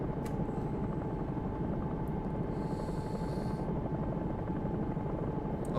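Bell 222 air ambulance helicopter in X-Plane 11 flight simulation, its rotor and turbine engine droning steadily and loudly throughout with a constant low rumble and high whine, no talk.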